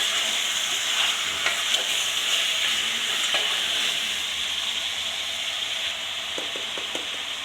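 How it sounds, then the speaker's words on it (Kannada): Mutton pieces stirred and fried in a hot pan, a loud, continuous sizzle with spoon scrapes and light clinks running throughout, no voices. "ನೋಡಿ ಮಟನ್ ಹಾಕಿ ತಿರುಗಿಸ್ಬೇಕು."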